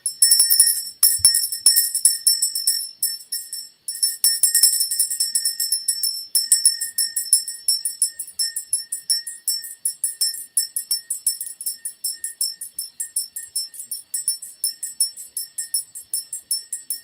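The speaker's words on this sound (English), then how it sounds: "Ring the bell for the children." A small bell rings rapidly and repeatedly for a long stretch, bright tinkling strokes with a brief pause early on, no voices.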